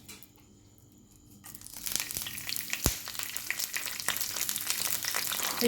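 Curry leaves dropped into hot coconut oil for a sardine roe dish: after a quiet start, a sudden loud crackling sizzle bursts in and continues with sharp pops and spatters, close and intense until the end.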